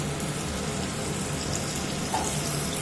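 Diced potatoes sizzle in hot mustard oil in a pan, a steady, even hiss of frying with no voices, fairly close and moderately loud throughout.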